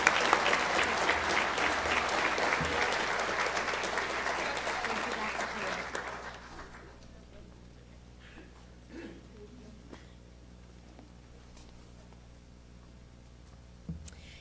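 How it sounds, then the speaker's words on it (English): An awards-night audience at Defiance College applauds a student honoree, a loud sustained burst of clapping that lasts about six seconds and then drops off sharply, leaving a quiet room with faint stray sounds and one small knock near the end. "If everyone can give a round of applause for Kelsey with the Charles J."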